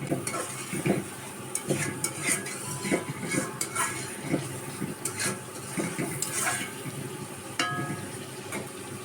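Village country chicken pieces stirred and fried in ground spice paste in a pot, with a steady sizzle under repeated clacks and scrapes of a spoon against the pan, moderately close, no talking.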